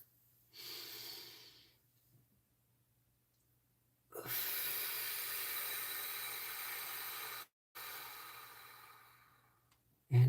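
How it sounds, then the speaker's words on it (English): Slow, deep human breaths during a guided breathing exercise: close and soft, a long inhale followed by a longer, airy exhale and another drawn-out breath, with quiet pauses between. "Let's take some nice deep breaths."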